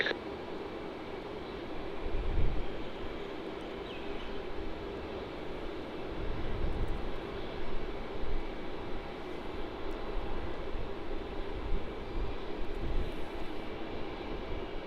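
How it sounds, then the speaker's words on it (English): Qantas flight 406, an airliner bound for Sydney, taking off from runway 16 at Melbourne Airport: a steady, broad jet roar held at moderate distance for the whole stretch, swelling slightly in places, with no talk over it. "Qantas 406, runway 16, cleared for takeoff."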